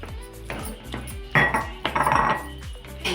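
A rice and moong dal mixture being stirred into jaggery syrup for sweet pongal, a ladle repeatedly knocking and clinking against a metal pot in a steady rhythm, close and fairly loud with no talking.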